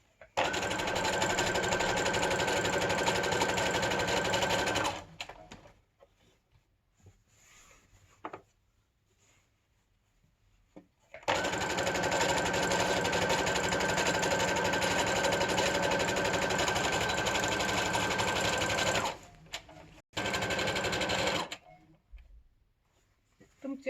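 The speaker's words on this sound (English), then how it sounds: "I like to do a double stitch at the beginning or and the bottom, at the back, at the end, so that the seam doesn't start opening up" A domestic sewing machine stitches a double-stitched seam on a surgical gown, running in two long steady bursts with a shorter third, separated by quiet pauses with faint handling noise.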